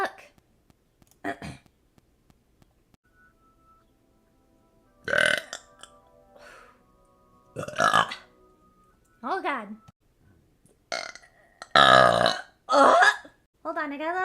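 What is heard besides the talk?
burping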